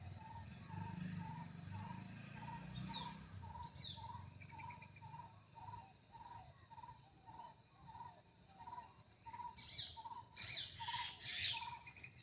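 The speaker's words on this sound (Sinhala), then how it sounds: "කුරුල්ලන්ගේ සද්ද." Birds chirp in quick repeated calls over a steady background of insects, quiet and outdoors in a home garden with no talking.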